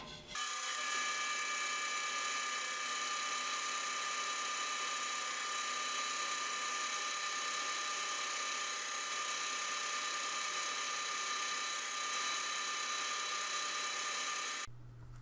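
A power sander works over trapezoid-shaped wood wedges cut for segmented rings, giving a steady, loud, unbroken high-pitched whine that runs at an even level from start to finish with no voices.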